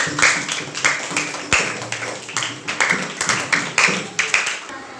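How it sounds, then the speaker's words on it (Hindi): A class claps for a winning student, a burst of many hands that settles into rhythmic, pulsing applause with a few voices mixed in. "चलिए इनको इनाम दीजिए। एंड क्लैपिंग, ताली बजाइए।"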